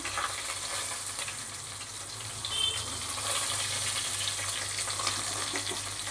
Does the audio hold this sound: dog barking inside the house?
no